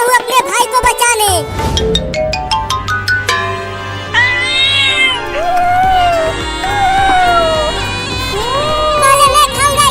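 A kitten meows repeatedly amid a busy mix of music and voices, with several rising and falling cries spread across the stretch, close and fairly loud.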